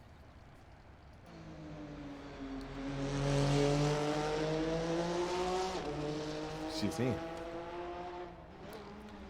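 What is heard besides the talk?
RSS GTN race car engine in a replay, video game Assetto Corsa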